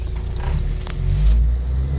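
A 1956 Ford Anglia 100E with freshly cleaned carburetor jets drives along, its engine a low, steady rumble that swells slightly midway, heard from inside the car with no talking.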